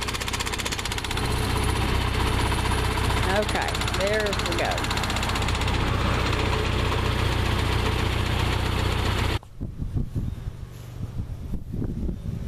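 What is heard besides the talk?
John Deere 350 sickle bar mower on vibrating tractor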